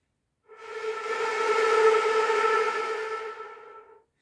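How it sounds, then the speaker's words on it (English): Breathy wind effect blown across a flute, a single sustained gust of airy tone with faint pitched harmonics, swelling in and fading out over about three and a half seconds, alone with no talk. "At letter B, we find wind sounds."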